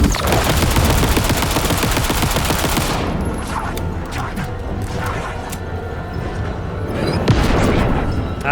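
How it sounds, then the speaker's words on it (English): Dense automatic gunfire from the video game Alan Wake 2, a loud continuous barrage that breaks off, leaving scattered shots and impacts before another burst swells near the end. "Ah, who's shooting at us?"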